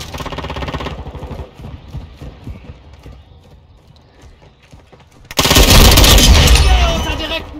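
Team deathmatch gunfire in Call of Duty Modern Warfare 2: light, scattered shots at first, then a sudden loud, sustained burst of rapid fire in the final seconds.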